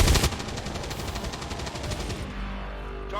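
Cannon gunfire in XCOM 2 erupts as a heavy opening blast followed by a rapid, rhythmic stream of loud booming shots that rattle on for about two seconds before fading into a low rumble.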